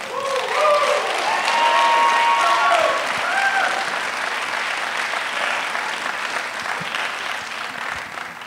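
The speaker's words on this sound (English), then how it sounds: "please give a big round of applause for her as she comes out here" Audience claps for a speaker walking onstage at a talk on sexual trauma, a sustained round of applause with a few whoops early on, gradually easing but continuing throughout.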